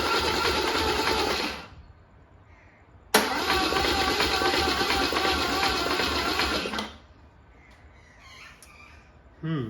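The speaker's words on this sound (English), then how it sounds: "Let's just wind her over and see if we can get some oil up." Starter motor cranking a Holden 161 red motor on a weak battery with boost cables, two steady whirring cranking runs, the second longer after a short pause, close and loud with no start.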